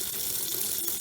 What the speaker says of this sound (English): now I'm going to put cold water over it.